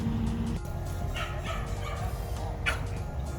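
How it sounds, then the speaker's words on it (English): A dog barks and yips in a house, giving a few short, close, sharp bursts with high whimpering yips between them over a steady background hum. "That's my dog."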